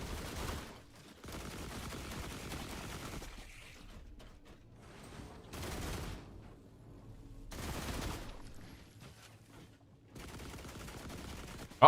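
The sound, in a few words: gunfire from companion bots in The Last Caretaker video game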